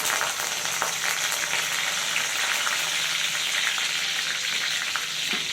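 Curry leaves sizzle in hot oil in a kadai with a dense, continuous crackling fry and faint stirring clicks, steady, loud and close, with no voices.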